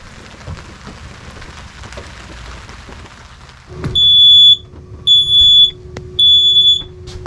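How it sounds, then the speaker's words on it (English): At a springtime campsite at Kettle Falls Campground, a smoke alarm shrills three loud, piercing beeps in a steady rhythm, following a soft patter of rain. "Okay, so the smoke alarm works."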